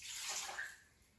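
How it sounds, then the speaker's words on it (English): Water pours from a cup into an empty Instant Pot's inner pot, a brief, steady splashing rush that starts full and tapers off near the end, with no voices. "add 1 cup of water to the Instant Pot"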